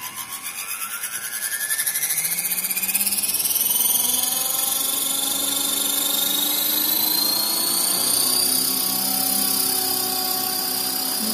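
Radio-controlled T-Rex helicopter spooling up close by, its whine climbing in pitch for the first few seconds before settling into a loud, steady buzzing drone.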